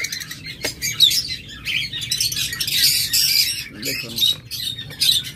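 Green Fischer's lovebirds kept as a pair, giving a flurry of sharp, shrill chirps and squawks up close, with someone speaking briefly among the calls.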